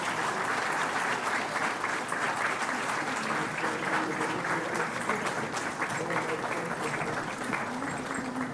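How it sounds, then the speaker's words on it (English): Audience applause for a chief guest at a RISC-V technology symposium at IIT Madras, steady sustained clapping from a large crowd throughout, loud and continuous with no speech over it. "please give a round of applause for our chief guest, Sri Rajiv Chandrasekhar."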